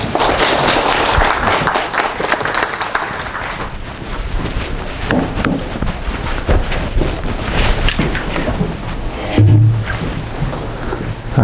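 An audience at a university mathematics colloquium applauds to welcome the speaker, with loud, continuous clapping and some rustling and bumps close to the microphone.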